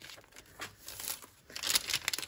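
Tea-dyed tracing paper crinkles and crackles as it is handled, a few soft rustling bursts building to a louder crumpling flurry near the end, close and alone.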